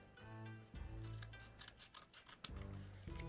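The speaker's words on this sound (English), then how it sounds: "I'm using my fly tying scissors." Fly tying scissors snip through foam strips in a few quick, close cuts with soft rasping and rubbing between them, quiet and without talk.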